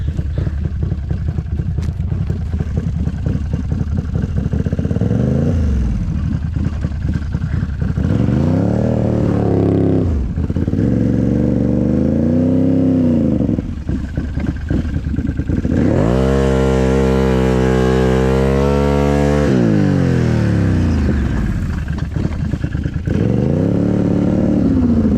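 Apache Backcountry tracked vehicle straining on a hill, its engine revving hard in repeated surging bursts with sweeping pitch, a long sustained high rev near the end, loud and close with mechanical clatter.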